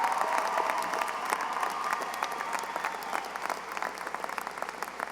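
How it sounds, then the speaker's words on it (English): A high school graduation crowd applauds its valedictorians and salutatorian, dense sustained clapping filling the hall for several seconds, gradually thinning toward the end. "can we have a nice round of applause for our valedictorians and salutatorian?"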